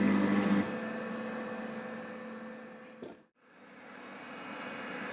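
A Lidl Monsieur Cuisine Smart cooking machine roasts shallots, garlic and ginger at 100 degrees on speed 1, giving off a steady close mechanical hum that briefly dips out near the end before resuming.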